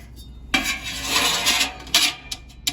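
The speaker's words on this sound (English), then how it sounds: "And then you're gonna put your steamer rack." Metal steamer rack set into a pot of salted water while making red beef tamales, a close clatter and scrape of metal on metal followed by a few sharper clinks, with no talking.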